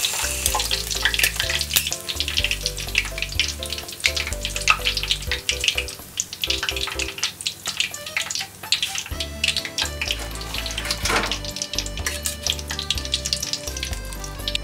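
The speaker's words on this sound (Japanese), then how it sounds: "じゃあ揚げます" Thick-cut ham cutlets deep-frying in oil, a loud bubbling crackle with popping bursts, heard alongside background music and no speech.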